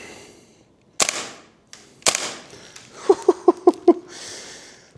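A WellPro AK12 gas blowback airsoft rifle fires two sharp single shots about a second apart, then a quick rhythmic burst of five snapping reports, each crisp and close with a short metallic clack.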